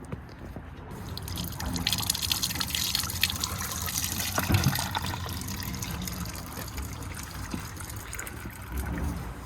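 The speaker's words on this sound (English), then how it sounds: "Okay, I've got engine oil going in." Engine oil pours steadily into the filler neck of a CVT-equipped track machine during a 500-hour service, a continuous liquid trickle and glug heard close up with steady low background noise.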